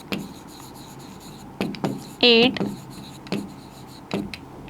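A pen writes number names for a Class 6 maths lesson on knowing numbers, giving short scratchy strokes spread over several seconds, with a brief tonal squeak partway through.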